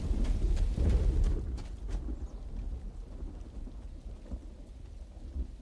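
Rain pours steadily in the Uru game world, with a heavy rumble of thunder rolling loudly through the first two seconds before easing into continuous rainfall.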